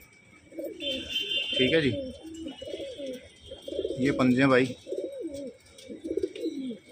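Costly pure-bloodline pigeons coo in low, rolling bursts close by, overlapping with someone talking.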